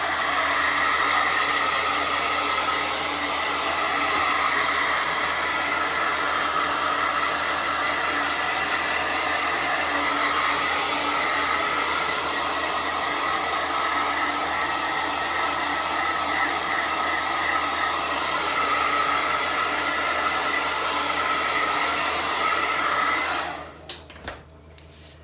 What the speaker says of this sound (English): I'm gonna give this a quick little dry.